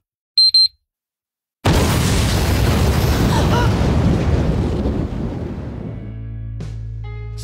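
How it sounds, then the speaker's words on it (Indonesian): One huge explosion as a character blows himself up, set off after a short electronic beeping, then a long loud roar of blast and rumble that slowly thins into a lingering low hum. "Taira memutuskan untuk meledakkan dirinya sendiri bersama dengan komodo-komodo tersebut."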